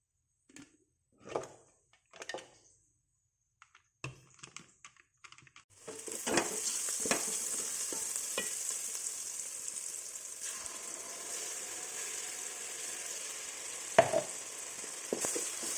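Vegetables with a little salt sautéing in a pan for macaroni, a steady close sizzle that starts abruptly after a few soft clatters and stirring knocks, continuing evenly with occasional louder scrapes.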